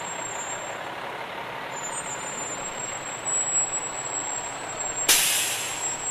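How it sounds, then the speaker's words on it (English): Fire trucks roll past in a Fourth of July parade, including a 2010 International pumper and a heavy rescue vehicle, with a steady engine rumble, a high whine and a sharp air-brake hiss near the end. "they've got their 2010 International Pumper, also the heavy rescue vehicle"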